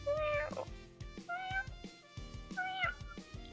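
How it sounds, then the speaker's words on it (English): A sad-sounding cat meows repeatedly in the video game Odin Sphere, several drawn-out plaintive mews in quick succession, close and clear with game music underneath. "The cat sounds really sad."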